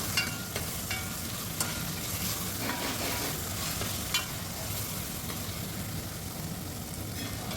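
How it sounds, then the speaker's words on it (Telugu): Ginger garlic paste frying with onions in a pan for a chicken dish, a steady close sizzle with spoon scrapes and stirring clicks throughout. "బాగా వేగిన తర్వాత ఒక పెద్ద స్పూను అల్లం వెల్లుల్లి పేస్ట్ వేసి దీన్ని బాగా ఫ్రై చేద్దాం"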